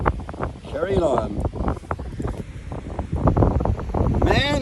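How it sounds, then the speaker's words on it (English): Gusty wind on a beach buffets the microphone in loud, uneven rumbling bursts, with someone talking over it throughout. "Man, is it windy here."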